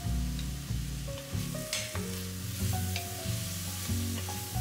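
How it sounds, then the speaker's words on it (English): Onion and pepper sizzle steadily in a pan while being stirred for chili, a close, constant frying hiss with occasional scraping and clinks of the utensil throughout. "Cook until the onion and pepper are soft, stirring occasionally so it doesn't burn."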